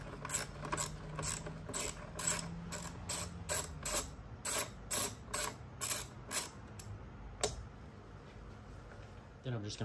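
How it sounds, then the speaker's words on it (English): Ratchet wrench loosening the 13 mm bolt that holds a car battery in place, a close series of rhythmic clicking strokes in bursts, then stopping with a metallic clunk near the end. "I'm going to remove the 13 millimeter that holds the battery in place at the bottom front down here"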